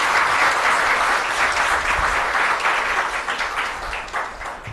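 Strong, sustained applause from a seated audience at an award ceremony with President Droupadi Murmu of India in Dehradun, dense hand clapping that holds steady then gradually thins toward the end.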